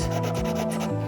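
Oil pastel rubbing across paper while coloring in letter forms, a steady close scratchy scrubbing with back-and-forth strokes and no talk.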